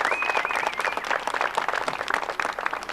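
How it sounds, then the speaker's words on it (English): Brisk applause from a small audience at a 1994 arts center ribbon-cutting, honoring the sponsors of a bench design competition, dense clapping held steady over a few seconds, with a brief whistle early on. "I'd like to have a little round of applause for those people."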